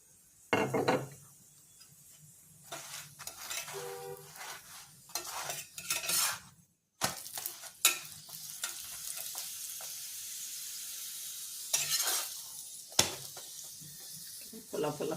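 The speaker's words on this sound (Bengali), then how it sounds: "ভাজা হয়ে গেল, তেল দিয়ে ভেজে নিয়ে এবারে" Paratha made with mixed kodaishuti (hyacinth bean) filling sizzles and hisses steadily as it fries in oil in a pan, close and fairly loud, broken by scraping and stirring noises of a utensil against the pan and a brief pause midway.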